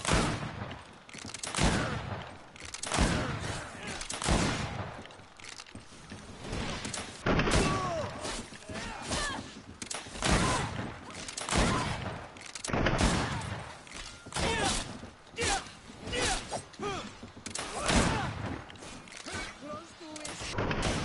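Gunfire from shooting enemies in the video game GreedFall, repeated loud bursts of shots in irregular volleys, close and prominent, with game voices talking at times.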